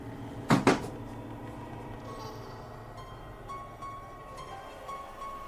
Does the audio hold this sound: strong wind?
no